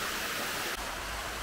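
Waterfall at Cachoeira da Água Branca in Ilhabela, Brazil, a dense continuous rush of falling water, close and steady, with no voices.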